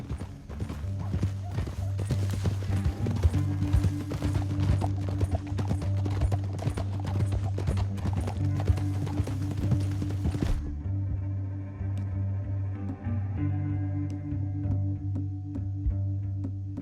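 Rhythmic hoofbeats of horses clip-clop steadily along with a low droning background in the video game Red Dead Redemption 2; the galloping stops partway through, leaving quieter ambience and scattered sounds.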